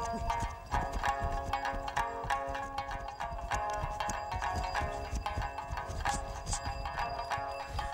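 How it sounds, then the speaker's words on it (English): Quick, regular hoofbeats clip-clop at moderate volume as a Mustang horse ambles along steadily, with some faint ambient noise behind. "The Mustang horse has a special way of trotting."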